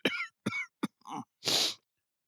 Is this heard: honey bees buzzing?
no